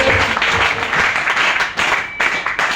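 An audience at an RCM business meeting in Ghaziabad, Uttar Pradesh, claps together for its own success. The applause is dense and continuous, steady and fairly loud throughout, with no voices standing out.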